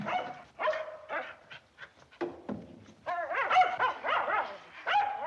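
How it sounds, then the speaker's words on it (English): A farm dog howls and barks near at hand, with wavering mournful howls broken by short barks and yips, loud and continuous with no talk over it. "Let him howl if it makes him feel good."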